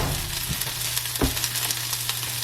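Chicken sausage crisps in a hot pan with a steady close sizzle and a few soft knocks of movement.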